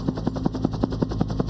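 A Huey command and control helicopter flies over a battlefield, its rotor throbbing in a steady, fast, even beat with a constant engine whine beneath, loud and close throughout.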